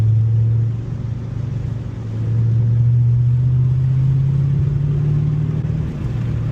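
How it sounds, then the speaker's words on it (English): Ford Mustang GT with a manual gearbox, heard from inside as its engine gurgles under light throttle: a steady low, rumbling drone that dips briefly and then swells slightly as it pulls, continuous and close with no talking. "You just start to feel that gurgle when you first start to take it a little bit."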